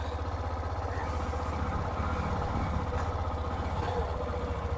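A Hero Xtreme 125R motorcycle idles and runs in first gear during a tug of war, a steady, moderately faint mid-pitched engine drone with a pulsing rhythm and no talk.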